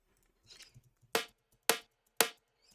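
A noisy, metallic snare drum sample layer hits four times in quick succession, crisp and bright with a short splashy decay, after a faint rustle at the start.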